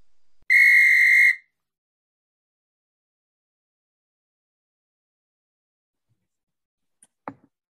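A whistle sound effect opens a podcast segment, one steady sustained tone lasting about a second, loud and alone, followed by silence and a faint brief click near the end.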